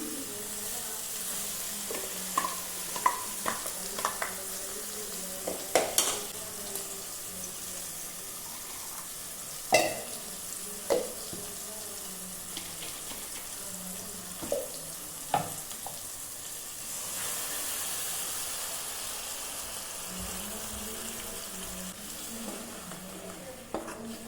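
Ground gravy goes into a frying pan and is stirred, bringing a low continuous sizzle broken by scattered spoon clanks and scrapes, with a stretch of running water toward the end.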